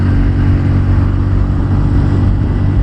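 A Bajaj Pulsar N160 fuel-injected 160 cc motorcycle engine hums steadily while climbing uphill, a smooth, even mid-pitched drone held close and loud without a break.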